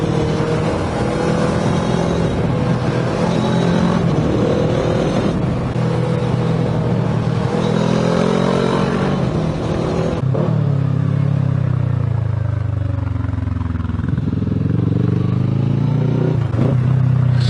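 A motorcycle climbs through the Stelvio Pass hairpins, its engine revving up and down continuously and loudly with a shift in pitch midway, heard up close with wind noise.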